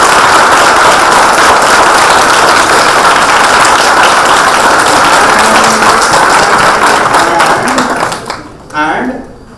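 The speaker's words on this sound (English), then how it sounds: "then give a big round of applause to your principals" Students in a college auditorium clap loudly for their principals, a close, dense burst of applause that stops abruptly near the end as a voice begins to speak.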